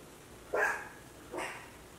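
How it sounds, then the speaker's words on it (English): Dogs bark twice, about a second apart, short and muffled as if from another room, over a quiet background. "my dogs were barking"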